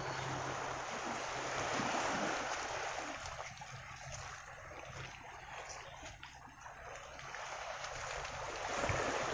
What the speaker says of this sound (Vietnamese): nghe những cái tiếng sóng vỗ nó. Nghe nó quá là thú vị luôn nha cả nhà.